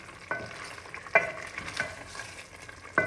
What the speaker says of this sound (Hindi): इसमें हमने ऑयल ऐड कर लिया है 2 हांडी के चम्मच और अब हम इसको अच्छी तरह भूनेंगे।